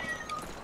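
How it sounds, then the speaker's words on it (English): A cat gives one short, soft meow, faint and slightly distant over a steady background. "I hear you, kitty."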